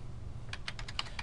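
Keys clatter on a computer keyboard while an invoice and product costs are entered into an Excel spreadsheet, a short quick burst of about eight close, crisp keystrokes over a quiet low hum.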